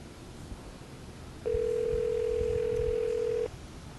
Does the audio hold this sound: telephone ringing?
yes